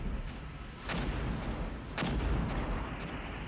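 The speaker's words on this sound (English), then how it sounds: "Additional artillery" Artillery booms from the Armored Brigade war game, two heavy reports roughly a second apart, each followed by a rumbling tail, with fainter distant shots scattered around them over a steady noisy bed.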